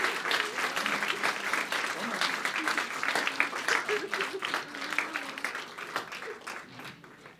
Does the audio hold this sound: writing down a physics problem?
no